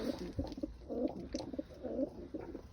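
Tumbler pigeons, just released outdoors, coo repeatedly in soft, rolling phrases at moderate distance, over a steady outdoor background hum.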